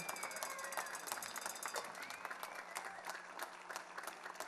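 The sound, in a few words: audience applause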